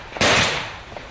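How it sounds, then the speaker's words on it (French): Single loud gunshot at a police dynamic shooting demonstration, a sharp blast with a broad decaying tail lasting under a second, heard alone. "Démonstration de tir dynamique"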